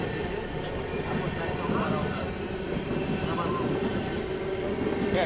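Karnataka Express train picking up speed, a steady broadband rumble of wheels and carriage noise heard from inside the coach, with people talking over it throughout.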